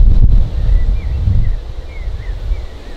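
Wind blows across an open golf course, a loud low rumble buffeting the microphone that is strongest at the start and then settles into a steadier gusting roar with no one speaking.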